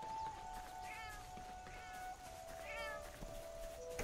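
Cats meow in the video game Monster Hunter Online, three faint, short mewing calls spaced about a second apart over a steady hum of game ambience and a sustained tone.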